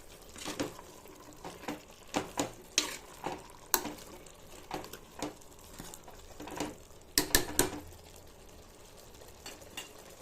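Vegetables (carrot, cabbage, potato and radish) with salt and turmeric are stirred and fried in a pan for sambar, giving soft scraping stirs and light sizzling in irregular bursts, faint and steady with no voices.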